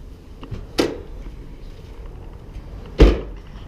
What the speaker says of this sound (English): Oh, I need to open the door, so we'll open that up.